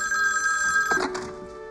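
A telephone rings in a kitchen, a steady electronic trill that fills the short moment, loud and close, then cuts off as the call is answered.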